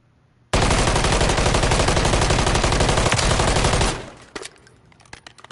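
A sustained burst of rapid automatic gunfire on a firing range in Call of Duty MW3, loud and close for about three seconds, then cutting off into a fading tail with a few scattered clicks.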